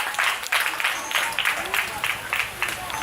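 A congregation at a New Year's Eve watch night church service claps steadily throughout, the applause rising and falling in short waves.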